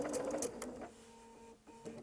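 A sewing machine stitches a sleeve onto dress fabric made from big printed panels, a brief close rapid whirring burst that then stops, leaving a low hum and a quiet pause.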